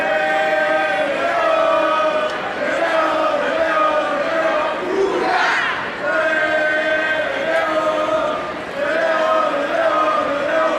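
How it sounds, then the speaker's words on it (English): A tennis crowd cheering and chanting on a hot day at a 2001 Cincinnati match between Kuerten and Haas, sustained rhythmic crowd voices rising and falling with no break. "A hot day to be out there cheering."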